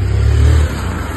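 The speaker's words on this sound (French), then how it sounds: "Toujours la moto qui passe." Motorcycle passing outside, a loud low engine drone swelling briefly and then easing off within about a second.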